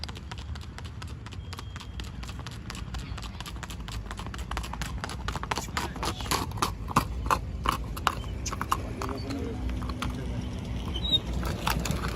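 A mare walks with steady, repeated hoof clip-clops that grow sharper and more distinct toward the end, over a continuous outdoor background.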